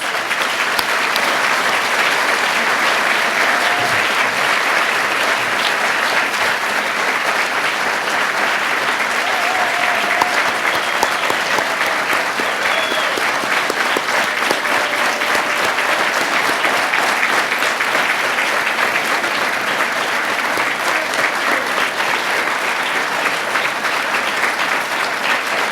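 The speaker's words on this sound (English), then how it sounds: "one more round of applause" Audience applause at the 2017 National Crime Victims' Service Awards ceremony honoring award recipients, dense sustained clapping from a large crowd that fills the whole stretch at steady loudness.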